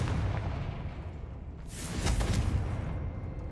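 A Confringo fire spell explodes in Hogwarts Legacy, a heavy low rumble swelling into a crackling fiery burst midway, near and loud, then settling back into a dull roar.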